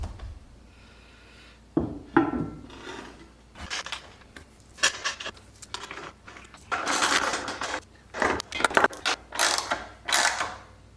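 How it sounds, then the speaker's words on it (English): Ratchet wrench tightening bolts on the legs of a modern farmhouse dining table, heard as bursts of rapid clicking at intervals with pauses between, fairly close and alone. "in a moment I'll bolt down the legs"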